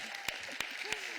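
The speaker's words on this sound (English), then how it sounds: "You should have held your applause" Brief, faint applause rises from the audience at a Seattle mayor's State of the City address, a few distinct claps standing out over a soft, scattered patter.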